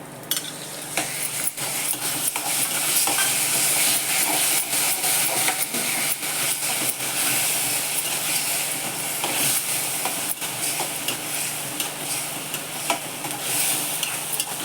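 Mashed roasted eggplant bharit is stirred and fried in a pan, giving a continuous loud sizzle and hiss broken by repeated scraping strokes of the spoon throughout.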